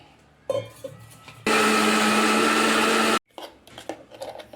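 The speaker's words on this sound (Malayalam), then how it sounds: "നമുക്കിതിന് ഇത്തിരി വെള്ളം ഒഴിച്ചിട്ട് നല്ല മഷി പോലെ അരച്ചെടുക്കാം" A mixer grinder grinds coconut with water in one loud, steady whirring burst of about two seconds, with softer handling clatter and bumps before and after.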